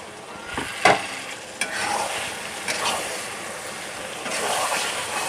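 Beef karahi gosht fries in a kadhai with a steady loud sizzle while a spoon stirs and scrapes it, with a few sharp clinks against the pan and no one talking.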